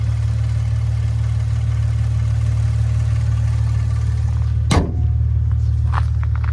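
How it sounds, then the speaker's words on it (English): A 2014 Maserati Ghibli S Q4's 3-liter twin-turbo V6 runs at a steady, loud idle with a deep continuous hum and a single brief thump partway through. "There's that 3-liter twin turbocharged V6."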